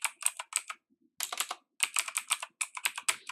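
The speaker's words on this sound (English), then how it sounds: "What if I type a flower in?" Quick bursts of computer keyboard typing as text is entered into a program, with crisp, close keystrokes in short runs separated by brief pauses and no talking.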